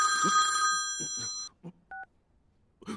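A mobile phone rings loudly with a bright, steady multi-tone ringtone for about a second and a half, followed by a couple of short electronic beeps in a quiet room.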